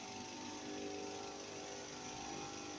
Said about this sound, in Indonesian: naikkan gas RPM-nya sekitar 1 menit